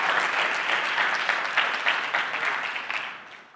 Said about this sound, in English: Can we give a round of applause to Icon, the rest of the team, for putting all this together?